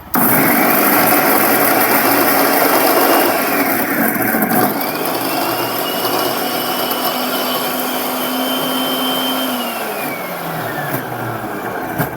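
A kitchen mixer grinds roasted grated coconut with a loud, steady motor whine that shifts pitch partway through and runs without a break, heard alone.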